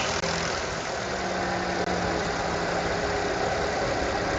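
A car engine idles steadily in a workshop during a fuel injector test, a continuous close mechanical hum with faint knocking texture and no talk.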